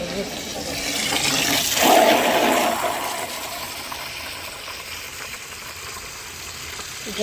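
A tap runs with a steady rushing stream of water that swells briefly and then settles into a softer, continuous flow.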